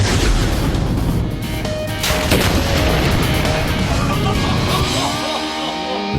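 A rocket launcher fires in a test of whether a bullet can set off a rocket, giving a loud blast and rumbling roar that fill the whole stretch, with crackling debris and a ringing tail.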